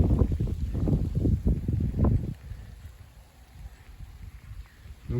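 A strong south-westerly wind of about 40 km/h ahead of a squall line and cold front roars and buffets the microphone in heavy low gusts, then eases to a lighter rumble.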